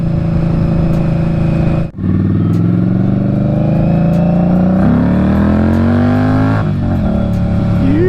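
A 2020 Indian Scout Bobber Sixty motorcycle engine roars loudly and steadily up close, with intake air sucking audibly as revs climb through rising pitch sweeps after a brief dip, no talking.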